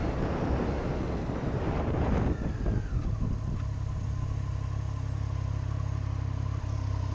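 Wind rushes loudly and steadily past a rider on a motorcycle wearing a Knox Urbane Pro summer jacket, a constant broadband roar with the engine's low hum beneath it and no talking.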